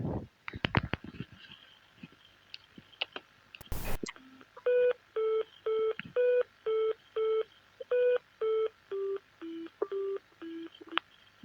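Computer-generated synthesized musical note tones play a short melody of about a dozen evenly spaced beeps, each a clear pitched tone with harmonics, following some brief clicks and a burst of noise; no one speaks.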